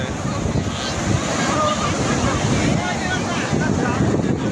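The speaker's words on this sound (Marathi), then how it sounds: "50 फुटावरती समुद्राच्या लाटा येतात." Sea waves breaking on the shore at the Ganpatipule beach on the Konkan coast, a steady, full roar of foamy surf mixed with wind buffeting the microphone.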